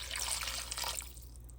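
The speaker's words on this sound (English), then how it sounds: "I'm gonna go ahead and add my water." Water pours into a cooking pot of smoked turkey tails with black-eyed peas and black beans, a steady splashing hiss for about a second before it tapers off.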